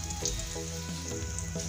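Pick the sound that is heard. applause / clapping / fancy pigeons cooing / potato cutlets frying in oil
potato cutlets frying in oil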